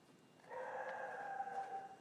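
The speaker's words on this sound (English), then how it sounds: "Don't mind the dogs barking" Dogs in a dog-friendly office give a faint, drawn-out howling whine that holds steady for over a second, heard at a distance with no talk over it.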